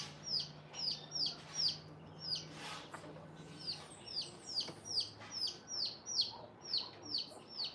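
Chickens cluck repeatedly in short, rhythmic bursts nearby on a farm, with a faint sewing machine hum underneath at first.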